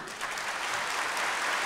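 Church congregation applauding during a homily at a Mass, a dense, steady wash of clapping that swells slightly and holds loud throughout the short stretch.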